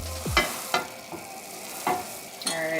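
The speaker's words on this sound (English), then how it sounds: "we're gonna let this simmer for about 2 minutes" A Japanese oyakodon broth mixture simmers in a pan with a soft bubbling hiss, broken by a few scraping stirs and clinks close by.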